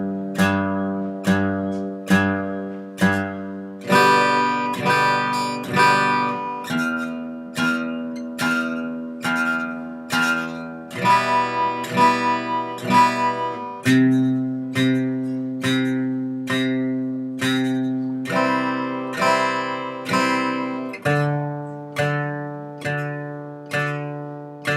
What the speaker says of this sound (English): So those are the 4 chords played with a bass note being strummed before the chord, or struck before the chord.